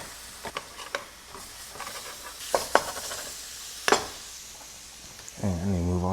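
Food is mashed in a hot sizzling pan with a utensil, giving scattered scraping knocks and soft clacks over a low frying hiss, and a person's voice comes in at the end.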